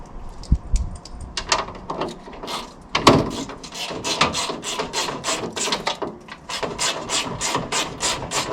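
A spanner works hidden 5 and 10 mm bolts loose on a crash-damaged VW Polo GTI 6R, giving close, irregular ratcheting clicks and metallic knocks that quicken into steady bursts of clicking.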